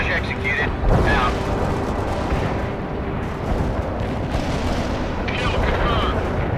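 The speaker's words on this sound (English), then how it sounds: "Mortar barrage executed." A mortar barrage thuds and booms in the video game World in Conflict, heavy repeated explosions rolling under a steady rumble, with clipped radio-style voices over the blasts.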